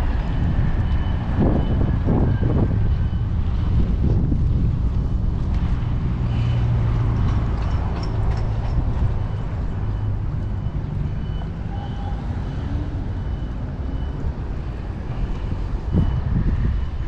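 Steady wind buffeting across an open space, a broad continuous rush with low rumbling gusts throughout, no voices.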